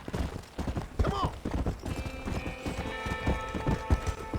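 Horse hooves galloping in a video game set in old America, a rapid rhythmic clip-clop running steadily throughout, with a brief whinny and game sounds in the background.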